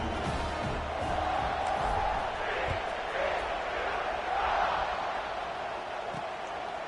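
Stadium crowd roars steadily in a college football video game, TCU at home after a scoring drive, with a commentator talking over the sustained cheering.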